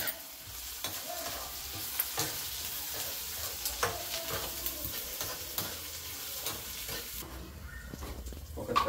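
Green chillies and curry leaves sizzling steadily in hot oil in a pan, with a spatula scraping and stirring in intermittent close ticks over the constant fry.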